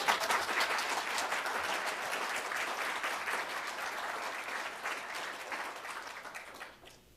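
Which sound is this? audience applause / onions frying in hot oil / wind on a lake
audience applause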